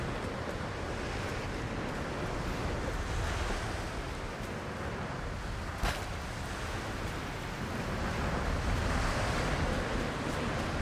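Cold wind gusts through a tomb in Tomb Raider, a steady broadband whoosh that swells and eases like surf, with one brief sharp crackle midway and no voices.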